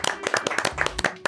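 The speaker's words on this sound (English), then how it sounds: "Clap, clap, clap." Hands clap in a quick, uneven burst of sharp smacks, close and loud, lasting just over a second.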